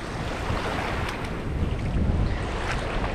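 Ocean surf washes in steadily at the water's edge of a Hawaii beach, a constant broadband rush with gusty wind buffeting the microphone and no voices.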